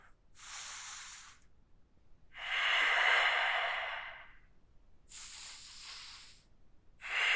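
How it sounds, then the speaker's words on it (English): Deep, slow breaths during a morning yoga hour: several long, close, airy inhales and exhales, each lasting one to two seconds, with short quiet gaps between them and no talking. "Breathing deep."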